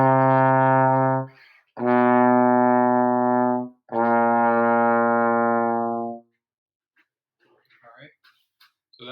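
A trombone plays a slow chromatic scale: three long, sustained, steady notes with short breaks between them, heard alone and close, then near silence.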